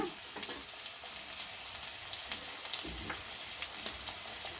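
Vegetables such as carrots and beans hit a hot pan for vegetable fried rice, giving a steady, dense sizzle with faint crackles and a few stirring scrapes, close and continuous, with no talking.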